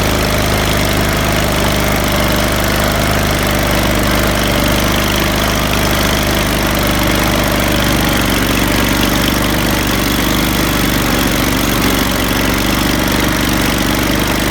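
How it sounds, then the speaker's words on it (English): A riding lawn mower towing a homemade grader box loaded with rocks drones loudly and continuously, a close, steady engine roar with a rough, knocking edge that never lets up. "I'll tow it with my mower"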